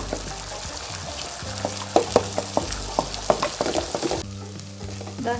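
Egg frying and being mixed in a pan, with a close sizzle under a series of sharp spatula scrapes and taps, then a quieter hiss.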